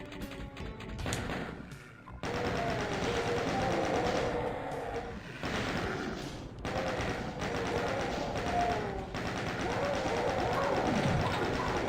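Rapid gunfire and blasts in the Doom video game, with dense, continuous bursts of shots and thuds layered over a loud, busy game soundtrack, with no pauses and no voices.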